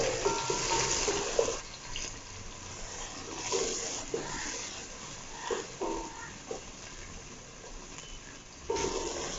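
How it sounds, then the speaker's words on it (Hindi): Crushed ginger and garlic frying with onions in a pan for aloo gobi, giving a soft, low sizzle broken by scraping stirs, fairly faint and close. "मैं जो ये जिंजर गार्लिक कुटा हुआ था ये इसमें डाल दूंगी, ताकि वो प्याज के साथ ही अच्छी तरह से फ्राई हो जाए"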